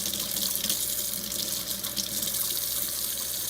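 Kitchen tap running as Ninja bullet blender blades are rinsed under it, a steady hissing splash of water into a sink, close and continuous.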